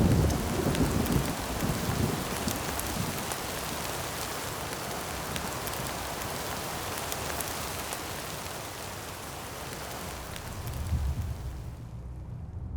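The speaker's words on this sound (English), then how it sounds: "It's long overdue rain that eventually defeats the fires." Heavy rain falling steadily in Australia after the bushfires, a dense continuous hiss with deep thunder rumbling at the start and again near the end, no voices.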